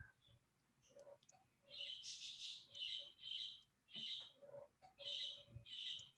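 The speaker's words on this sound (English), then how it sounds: "Can you hear my Angry Birds in the background, Jeff?" Birds calling in the background of a home video-call interview: a steady series of sharp, high, squawky chirps in short repeated bursts, fairly loud and close, with no talk over them.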